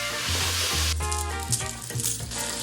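Bacon and chorizo sizzle in a pot, a loud, steady crackling hiss with a brief clatter partway through as the meat is stirred, close and uninterrupted by talk.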